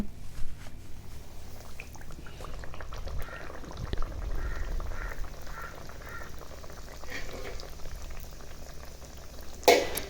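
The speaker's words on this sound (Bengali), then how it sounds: "তো এখন ভেজে নেব" Beguni and piyaju fritters deep-frying in hot oil, a steady bubbling sizzle running throughout with faint clinks, and a sharp utensil knock near the end.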